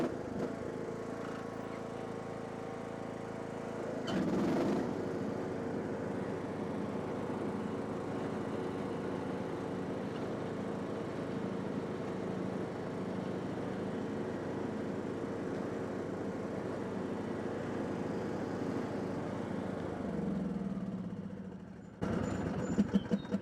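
A John Deere 110 riding lawn mower drives along with a steady, moderately quiet engine drone and a brief bump partway through, the engine note changing near the end.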